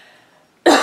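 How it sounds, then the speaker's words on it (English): A single short, loud cough bursts out abruptly at the end after a faint, quiet lead-in, from a person describing a persistent cough during a health history interview. "I can't stop with this cough"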